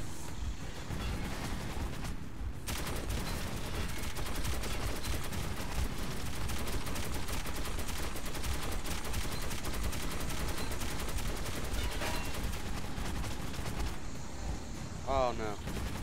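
Sustained gunfire in the shooter game Metro 2033 Redux, dense rapid bursts and rumbling blasts running almost without pause, loud and close, with a short quieter break near the start.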